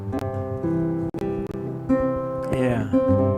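Baritone-stringed dobro tuned down to C, strummed and picked for a few seconds, giving deep, ringing resonator chords with bright sustained overtones, close and fairly loud with no voice over it.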